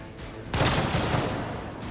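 Friendly-fire gunfire in the Rogue Trader video game, a sudden dense burst of rapid shots that starts abruptly and holds steady for over a second before cutting off.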